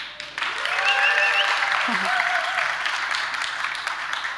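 Rising after a short pause, a crowd at an innovation opening ceremony claps hands in dense, steady applause, with a voice speaking over it near the middle before the clapping tapers slightly.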